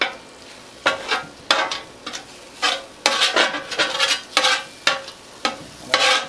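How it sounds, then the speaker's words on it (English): A plate is taken out in a cramped kitchen beside a Blackstone 17-inch griddle, giving a close series of sharp clinks, knocks and scrapes of dishware in irregular bursts with short quiet gaps between them. "let me get a plate out"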